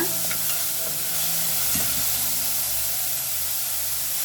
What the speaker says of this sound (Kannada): ಬೆಳ್ಳುಳ್ಳಿನ ಚೆನ್ನಾಗಿ ಫ್ರೈ ಮಾಡ್ಕೊಬೇಕು ಟೊಮೊಟೊ ಜೊತೆಗೆ ಮಿಕ್ಸ್ ಆಗೋ ಥರ